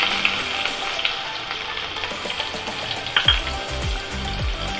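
Chopped onion and curry leaves frying with fenugreek in a pan, a close moderate sizzle with a few utensil knocks and brief low thumps, no talking.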